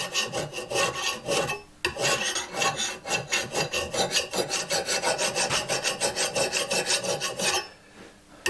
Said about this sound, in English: I'm gonna try one of my used up files instead.